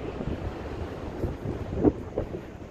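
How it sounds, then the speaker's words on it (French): Gusty wind blows outdoors in poor weather by a tower in Cahors, a steady low rumble of buffeting against the microphone that swells and eases, with no voices. "il fait pas très beau, il y a du vent"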